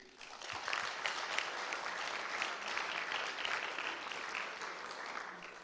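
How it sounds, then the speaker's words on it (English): Applause from the audience at the closing plenary of a conference in Baku, a steady round of clapping that rises quickly and holds at a moderate, fairly distant level for several seconds. "and applause for you"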